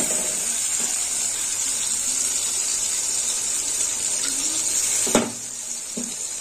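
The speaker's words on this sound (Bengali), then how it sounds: "সর্ষে বাটা দিয়ে দেবো। আর একটু জল দেবো।" Water poured into a cooking pan holding mustard paste for an eggplant and bori curry, giving a steady, close hissing gush that runs throughout, with a sharper splash or clink near the end.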